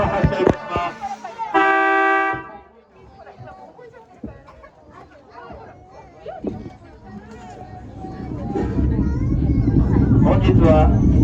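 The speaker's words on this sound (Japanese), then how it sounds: "お待たせしました。 ケーブルカーを発車いたします。" Mitake-san cable car sounds a signal horn on departure: a loud sustained harmonic toot near the start, then rising running noise of the car building to a steady rumble, with a recorded voice announcement under it.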